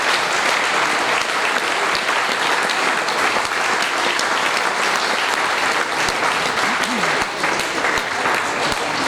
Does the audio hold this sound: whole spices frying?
no